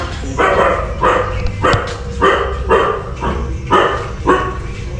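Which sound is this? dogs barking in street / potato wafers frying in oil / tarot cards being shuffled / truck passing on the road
dogs barking in street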